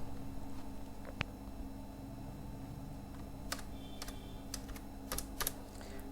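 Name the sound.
typing code on a computer keyboard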